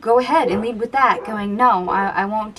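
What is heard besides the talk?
None of the usual background noises is heard.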